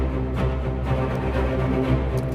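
Low string notes from the Action Strings library, a thick, dense bowed ensemble rumbling in a steady sustained pulse, panned centre and heard alone until a quick cutoff.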